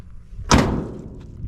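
Ford F100 dentside truck cab door, newly mounted during a cab install, slams shut once with a sharp, close thud that rings briefly and fades into low room noise.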